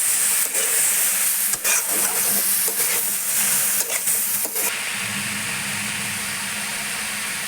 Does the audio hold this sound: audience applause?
no